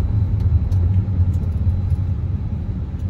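A Disney World bus passes close by, its engine giving a loud, continuous low rumble that swells and eases slightly as it moves along the road.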